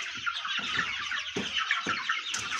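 Golden Lace Wyandotte Bantam chickens clucking near the microphone, with a steady bright layer of chicken calls and several short low thumps scattered through it.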